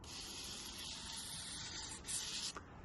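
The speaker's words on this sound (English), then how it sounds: "just light sanding, just get it in there" Steady, soft scratchy rubbing of fine sandpaper lightly sanding an antique dining table, continuous and close, with a brief louder scrape near the end.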